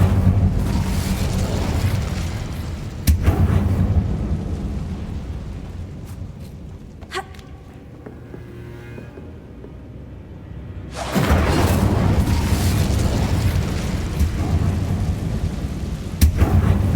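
The Incendio fire spell cast in the Hogwarts Legacy video game: a loud, roaring blast of flame that fades to a quieter stretch with faint chimes, then surges back into a second sustained roar.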